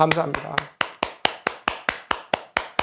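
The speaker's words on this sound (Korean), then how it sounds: "교회 박수." A church-style clap, a run of about a dozen sharp, even hand claps at a steady rhythm, close and clear, with a brief voice at the start.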